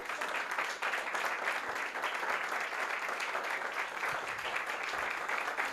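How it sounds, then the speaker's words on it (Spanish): A church congregation applauds in praise, steady dense clapping from many hands filling the room at an even level throughout, with no voices on top. "Yo le daría un buen aplauso al Señor."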